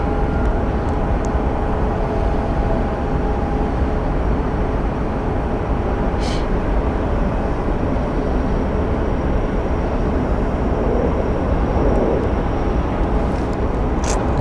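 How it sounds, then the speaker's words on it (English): An American Airlines Boeing 737-800 airliner passes at Phoenix Sky Harbor International Airport, a loud, sustained broadband jet roar with a steady engine whine running throughout and no talk. "we'll have what appears to be an American Airlines 737, 800 series more likely"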